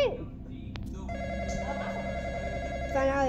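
A telephone rings in a room, its steady electronic tone sustained through the clip with a brief click near the start, fairly loud over low background hum and no one speaking.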